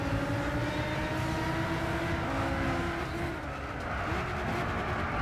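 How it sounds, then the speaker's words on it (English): A race car engine in Gran Turismo 6 at Big Willow drones steadily at high revs in 2nd gear, harmonics holding nearly flat, loud and continuous throughout. "my car was just revving out in 2nd gear"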